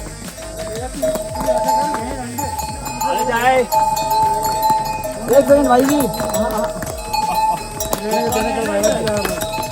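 Pack horses wearing bells walk a mountain pilgrimage trail to Hemkund Sahib, with ringing bell tones and hoof sounds passing nearby. People talk over the animals throughout.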